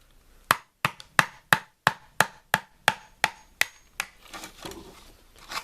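A flathead screwdriver is struck into a cheap speaker housing about a dozen times in a steady rhythm of sharp, close thwacks, then softer, scattered scraping knocks follow.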